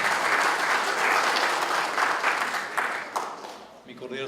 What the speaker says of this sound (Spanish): Vamos a aplaudirle